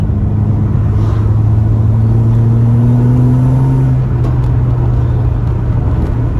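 A turbocharged EF Ford Falcon with a differential problem drives on a private road, its engine a steady close rumble and drone that holds a constant tone, then eases slightly as the pitch drops partway through.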